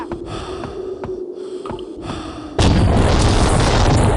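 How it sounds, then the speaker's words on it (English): A rocket launcher fires in the first-person shooter Gore - Ultimate Soldier: a sudden loud, broad blast breaks in after a stretch of quieter game ambience with small clicks, then a dense roaring rush continues to the end. "New weapon, a rocket launcher."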